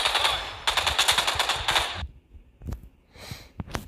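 Gunfire in a Final Fantasy VII mobile battle royale game: a loud, rapid burst of automatic fire for about two seconds, followed by a few sparse, separate shots.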